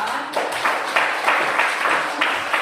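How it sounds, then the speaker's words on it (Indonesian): Classroom applause for a student group: a handful of people clapping in quick irregular bursts, close and fairly lively, lasting a couple of seconds. "berikan tepuk tangan untuk kelompok 5"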